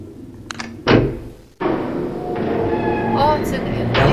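A heavy metal gate swings shut in the 1993 Myst computer game: a sharp thud, then a deeper clunk a moment later, followed by a sustained low mechanical rumble.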